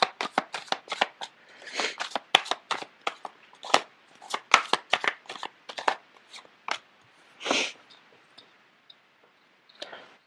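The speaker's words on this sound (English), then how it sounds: "The cards are not shuffling too well." Playing cards shuffled in quick riffling bursts, a rapid flurry of papery flicks and snaps that pause briefly, then resume, close and clear.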